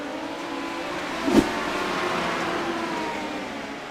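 Race cars circling South Boston Speedway, a steady loud engine drone with a brief sharp surge as a car passes close, no talk over it.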